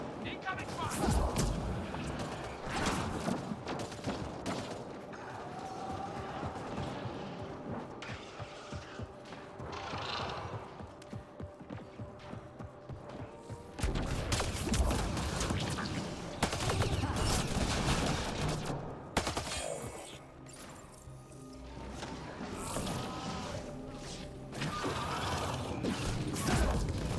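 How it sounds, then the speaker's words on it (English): Gunfire in a Mass Effect Andromeda firefight: scattered volleys and loud bursts of shots come and go amid mechanical clanks and impacts, mixed with voices talking throughout. "Incoming fire!"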